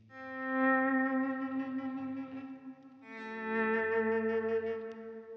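Electric guitar through a Line 6 Helix reverb with low and high cut, two sustained chords ringing in turn with a smooth wash of tail, played alone without voices.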